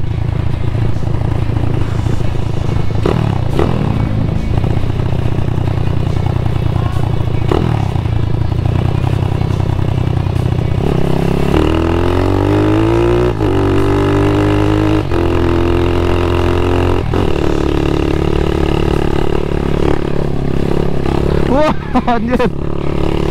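A motorcycle engine pulls uphill in fifth gear with a loud, steady drone whose pitch climbs and shifts, mixed with wind and rattling; a voice speaks briefly near the end.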